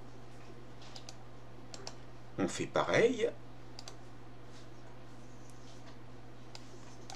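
Computer keyboard keys, including the Delete key, click in a quick short burst of a few presses, fairly faint against a quiet room hum, while a person speaks softly.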